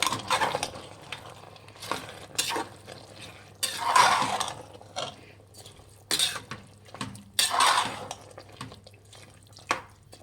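Soaked, washed rice being stirred in a pot while making Chettinad chicken biryani, heard as a series of soft wet scraping and sloshing strokes in bursts, fairly faint, with a low steady hum underneath.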